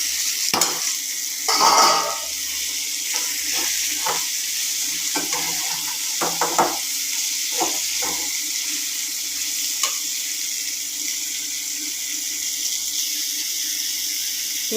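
Chopped onion, tomato and small pieces of beetroot sizzle steadily in a pan for a beetroot fry, with a spatula scraping and stirring in irregular bursts over the continuous hiss; close and fairly loud, with no voices.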